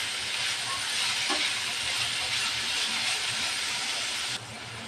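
Amaranth stem greens fry in a pan with onion and garlic, a loud, dense sizzling hiss that holds steady close by and eases slightly just before the end.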